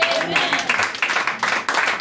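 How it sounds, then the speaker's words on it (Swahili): A church congregation claps in a rapid, uneven burst of applause during a worship service, with voices talking and calling out over the clapping. "Pigia Yesu makofi mazuri."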